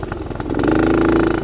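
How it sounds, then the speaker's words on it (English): Dirt bike engine running while riding through snow, a rough mid-pitched motorcycle drone with choppy pops early on that settles into a steady rising rev, close and fairly loud. "Hear the backfires from the dirt bike."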